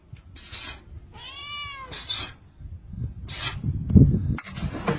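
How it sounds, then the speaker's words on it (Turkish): A cat meows repeatedly from beneath a parked car, several drawn-out calls spaced apart, fairly close and clear over low outdoor rumble and a brief louder thump. "Arabanın altına kedi gidiyor ya"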